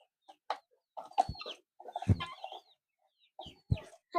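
A chicken being held for beak trimming gives short, agitated clucks and squawks in several separate bursts, close and fairly loud against a quiet background.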